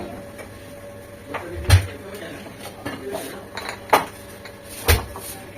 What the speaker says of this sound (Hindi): अब मैं इनको अच्छे सही बर्तनों में, साफ बर्तनों में निकाल के रखती हूँ